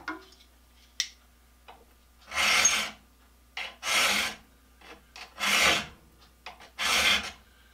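Carbide-tipped saw blade tooth being hand-filed, four long rasping strokes in a steady rhythm with short pauses between, close and fairly loud, a few faint clicks in between.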